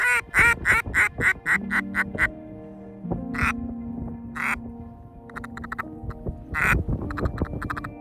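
A man imitates duck calls during a hunt while waiting for ducks and geese, producing a rapid series of loud, nasal quacks followed by a few spaced single quacks nearby.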